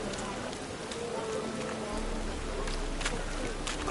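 Steady rain falls in The Witcher 3, a constant even hiss of drops spattering on surfaces, moderately quiet, with faint voices in the background.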